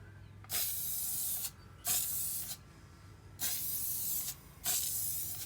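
Four hissing bursts from a spray paint can, each about a second long, with short pauses between them, close by, spraying a car wheel of a 2021 Toyota Supra from about 8 to 9 inches away.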